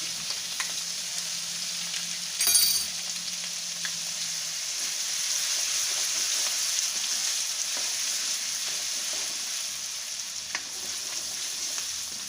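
Asafoetida, ginger and green chillies frying in hot oil in a pan on low heat, a steady close hiss and sizzle with a brief louder crackle early on, no talking.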